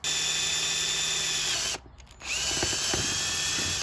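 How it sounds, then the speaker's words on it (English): A power drill whines loudly and steadily, stops briefly, then starts again with grinding bites as it cuts a second mounting hole in a car sun visor. "Drill our second hole."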